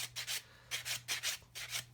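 Short sandpaper strokes rub the edge of a plastic tyre from an Airfix 1/32 scale model Humber, about six quiet, rhythmic scratchy passes close up with brief pauses between.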